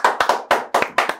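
A few sharp, separate claps of hands from a studio audience of a Yoruba-language quiz show, close and distinct, about six quick strikes in just over a second.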